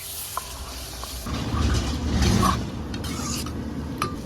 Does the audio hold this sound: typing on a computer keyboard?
no